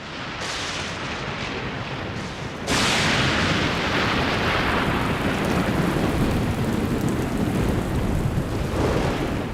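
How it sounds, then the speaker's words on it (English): A downpour of rain falls on a parched African plain, and thunder rolls through it. A steady roar of rain swells sharply partway through, and a deep rumble continues underneath. "As the downpour begins, the parched ground absorbs every drop."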